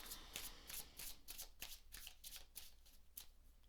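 A deck of cards being riffle-shuffled, a run of quick crisp flutters in steady bursts, close and clear with no voices.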